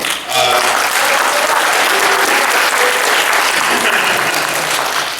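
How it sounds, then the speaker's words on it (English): Loud, sustained applause from an audience at a San Diego Comic-Con 2014 panel fills the whole stretch, a dense wash of clapping with faint voices mixed in. "Everyone give a warm round of applause, please, for Tommy Yoon."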